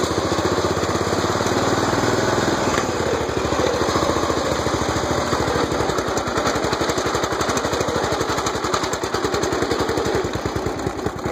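Tractor on bear claw tires driving, its engine running steadily with a loud, rapid chugging throb close by throughout, no talking.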